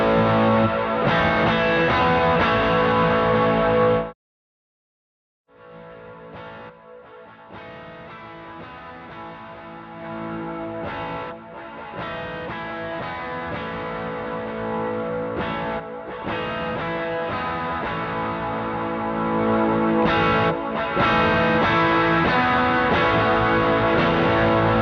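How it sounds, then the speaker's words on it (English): Electric guitar played through an overdrive, delay and reverb chain into a volume pedal and amp, sounding loud and sustained and distorted, with a sudden cut to silence before the tone swells back in and continues. "So now it's guitar, overdrive, delay, reverb, volume out to an amp."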